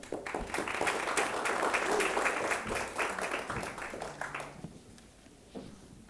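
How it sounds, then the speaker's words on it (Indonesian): An audience at a high school literary criticism competition final claps loudly and densely, the applause fading out toward the end before a brief murmur. "Tepuk tangan."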